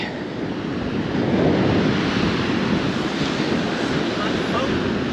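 Steady roar of wind buffeting the microphone over rushing surf on a Swedish seashore, loud and continuous throughout.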